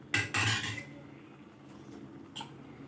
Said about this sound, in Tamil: இது சேர்த்து நல்லா இதில் கலந்து விட்டுடலாம்.